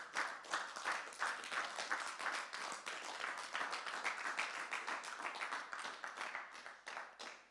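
A church congregation at a French-language revival seminar breaks into sustained applause, a dense steady wash of many hands clapping close and loud for several seconds with scattered cheers.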